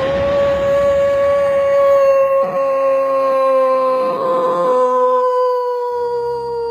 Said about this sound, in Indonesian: Berdiri dan menghasilkan bunyi macam bunyi serigala.